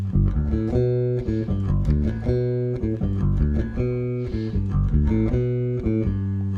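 A bass guitar plays a steady, plucked bassline of repeated notes, clear and close with no talking.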